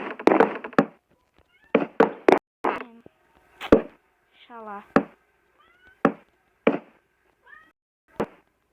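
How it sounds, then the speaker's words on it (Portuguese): A house cat meows several times in short, separate cries, loud and close, between brief knocks and a few words of Portuguese speech. "meu gato tá miando aqui"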